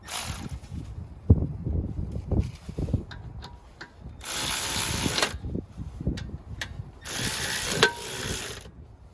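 A power drill whirs in two sustained bursts, driving bolts into a rear brake rotor on a 2011–16 Honda CR-V, with metallic clicks and clunks of parts being handled in between.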